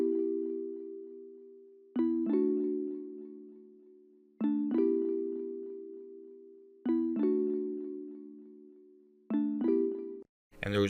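Two alternating synth chords from a Celeste keyboard preset in Massive, for a beat, each struck with a bright bell-like attack and left to ring and fade, repeating in a slow steady pattern without voices.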